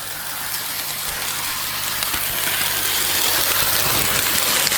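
A Bachmann BR Ivatt Class 2MT Mogul model steam locomotive running at half speed, giving a steady mechanical hiss and low rumble that swells slightly louder as it continues, with no talk.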